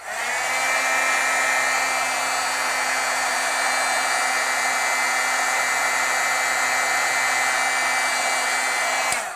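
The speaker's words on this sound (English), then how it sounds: "just heat set each layer that you get through" A heat tool blows steadily and loudly for about nine seconds while drying layers of Brilliance ink on rainbow holographic paper, a constant hot-air roar with no talking, cutting off sharply at the end.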